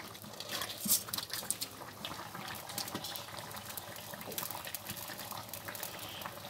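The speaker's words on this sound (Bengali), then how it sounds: "তরকারিটা কিন্তু আমার ভালো করে একদম বলক চলে এসেছে" A curry of beans, tomato and fried fish bubbles at a full boil in a pot, with continuous gurgling, popping bubbles and a brief louder splash near the start.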